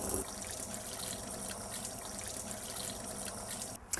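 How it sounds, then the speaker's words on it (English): Hands are washed under a running kitchen tap, a steady, fairly faint rush and trickle of water that continues unbroken with no talking. "But first, wash your hands."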